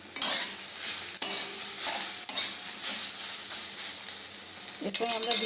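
Ginger paste frying in a pan with fried soy nuggets, stirred with a spatula: steady close sizzle broken by several sharp scraping strokes against the pan, with a burst of busier clatter at the end.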